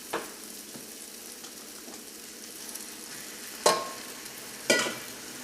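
Chicken goes into a pan of tomato masala cooked to a paste over medium flame, giving a steady soft sizzle with a few sharp spitting crackles standing out near the end.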